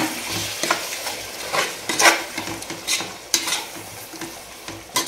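Masala paste and yogurt cook on a low flame for mutton biryani, stirred with a utensil that makes rhythmic scraping strokes over a gentle sizzle, close and fairly loud, without any voices.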